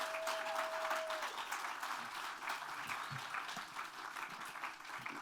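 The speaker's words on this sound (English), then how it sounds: "Give him a round of applause, everybody." An audience claps steadily, a dense wash of applause that holds at an even level throughout.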